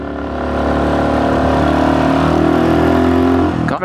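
A motorcycle engine hums steadily while riding, holding a mid-pitched drone that swells gradually louder, then rises sharply in pitch right at the end as the rider revs or shifts.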